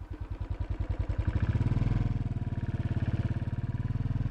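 A Royal Enfield 500 UCE Bullet single-cylinder engine thumps close by, its rapid regular beat speeding up and building in loudness as the motorcycle pulls away, then settling into a steady rhythmic drone.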